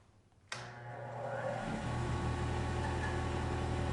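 Wood lathe fitted with a Nova Supernova2 chuck switched on with a sudden click, then a motor hum that rises as the weighted spindle slowly winds up to a steady whir.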